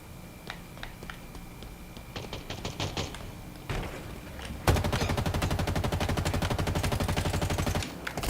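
Gunfire in the Halo Infinite multiplayer shooter: scattered single shots and short bursts at first, then a loud, rapid automatic stream of evenly spaced shots running for several seconds.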